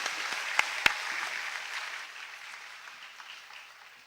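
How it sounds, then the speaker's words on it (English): Moderate applause from an audience at a formal event honouring Malaysia's prime minister, a soft continuous patter of clapping with a couple of sharper claps early on, gradually fading toward the end. "Ladies and gentlemen, another round of applause for His Excellency Tun Mahathir, Prime Minister of Malaysia"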